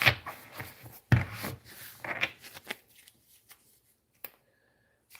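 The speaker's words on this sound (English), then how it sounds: "Let's shuffle and see what would like to come out of the tarot." A deck of tarot cards is shuffled by hand in close, crisp riffling bursts over the first few seconds, then a few soft taps and a faint tone in near silence.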